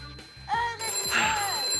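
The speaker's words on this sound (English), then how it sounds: "Get the phone!" A telephone ringtone trills in a short electronic burst, loud and close, overlapping shouting and studio noise on a live children's television show.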